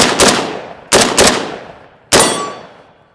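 Three loud, close shots from a SCAR 17S rifle, each a sharp crack with a long ringing decay, the first two spaced about a second apart and the third following after a slightly longer pause.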